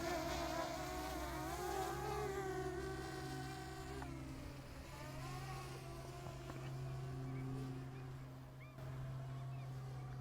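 A DJI Mini 2 drone being buffeted by strong wind as it flies off over an urban area gives a thin, whiny propeller buzz. The pitch wavers and shifts, heard faintly and continuously.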